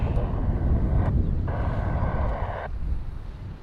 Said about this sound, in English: Swiss 401 with 250 degrees, 1 off, runway 28 right here for takeoff.